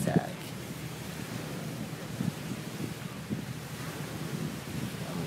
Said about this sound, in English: Just wanted to show you all beautiful Zachary Taylor Beach